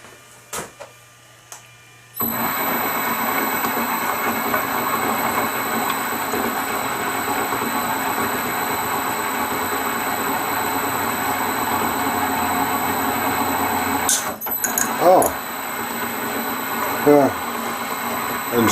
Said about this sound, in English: Now I put the tap in, drop the machine into back gear.